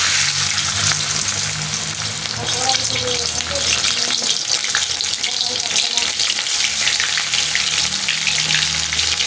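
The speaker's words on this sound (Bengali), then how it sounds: "এখন আমি আস্তে আস্তে করে এই যে বেগুনগুলো নরম হয়ে গেছে, ভেজে নিব" Softened eggplant slices fry in hot oil in a wok, giving a steady, dense sizzle that holds loud and close throughout, with faint clinks of stirring and no voices.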